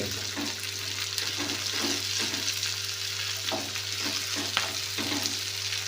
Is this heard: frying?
yes